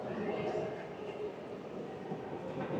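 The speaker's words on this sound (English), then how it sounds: "Quite a nice sized train station." Interior ambience of a large train station on Poland's Baltic coast, a continuous low hum and murmur of trains and hall noise, steady and diffuse.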